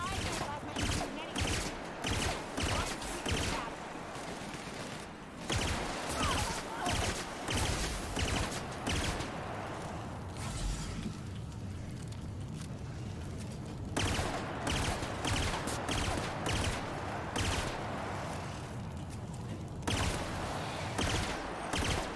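Rapid gunfire from a sci-fi first-person shooter, The Outer Worlds, with repeated bursts of loud shots in quick succession broken by short pauses, while a player's voice talks intermittently over the action.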